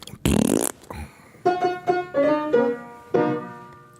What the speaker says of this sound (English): has redeemed the fart sound